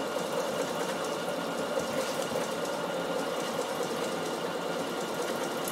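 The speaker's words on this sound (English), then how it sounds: "But you can see the fun of doing the freehand stitching with the wool." A Bernina sewing machine doing freehand stitching on wool, with a steady, close whirring drone and rapid needle motion that runs without a break and with no voices.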